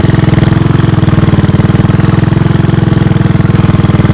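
The engine of a 1983 Honda ATC200 three-wheeler idling slightly high, a loud, close, steady rapid thumping pulse that holds an even rhythm throughout.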